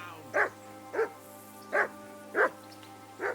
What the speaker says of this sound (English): Henry, that barking's driving me nuts.